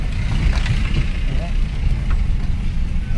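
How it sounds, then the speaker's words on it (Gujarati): A truck loaded with paper rolls rolls past on a Rajkot street, a steady, loud low engine rumble filling the whole moment with street noise behind it. "આ પેપરના રોલ ભરેલો ખટારો એમ આ ગયો"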